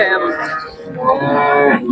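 A Khillar cow at a cattle market moos in a long, sustained low call, close and fairly loud, with a second drawn-out moo following.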